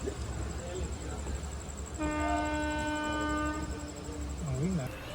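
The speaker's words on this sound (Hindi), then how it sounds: "ये हॉकिंग, ये चेन पुलिंग वाली हॉकिंग है।" A train horn blows one long, steady blast from an express train after its emergency chain is pulled, heard from inside a sleeper coach over the rumble of the moving train.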